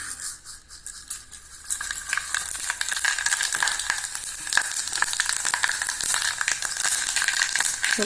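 Mustard, fenugreek and cumin seeds sizzle and crackle steadily in hot oil in a pot while a tamarind kuzhambu is being cooked, starting quieter and then building to a loud, continuous spitting fry with no talking.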